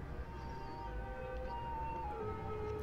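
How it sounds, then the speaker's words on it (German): Faint, low-level ambulance siren from the Cities: Skylines city-builder game, a thin wailing tone that holds and shifts pitch over a quiet city ambience, with no voices. "Oh, ein Krankenwagen."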